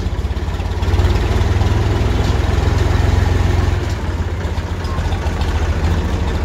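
A 1980 Massey Ferguson MF 135 tractor engine idling close by, a loud, steady low diesel chug with an even rapid pulse and a slight swell partway through, no talking.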